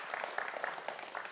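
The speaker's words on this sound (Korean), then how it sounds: "끝까지 최선을 다해준 노태영 학생에게도 우리 다 함께 박수 한번 보내주시죠" A studio audience at a televised student quiz show claps for a runner-up contestant in a short, fairly quiet patter of applause.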